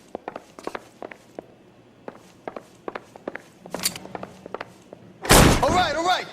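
In the L.A. Noire video game, footsteps thud across a floor before a heavy bang as a door is forced open, followed by a loud, close burst of shouting.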